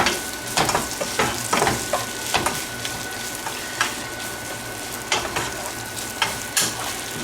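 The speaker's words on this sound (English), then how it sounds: "give this a nice stir." Close, steady sizzle of onions frying in a pan with paprika and garlic powder, broken by repeated scraping stirs and utensil taps against the pan.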